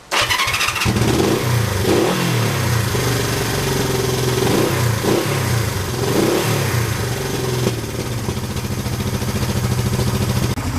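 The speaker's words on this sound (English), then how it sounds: "I'm going to warm my bike up. It should idle." A Honda 350 motorcycle engine idles loudly and steadily while warming up, with a few brief revs early on before settling into a constant rumbling idle.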